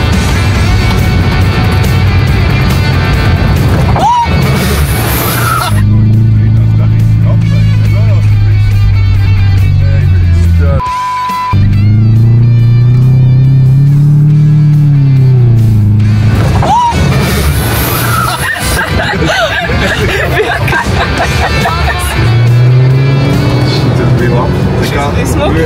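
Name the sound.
car driving off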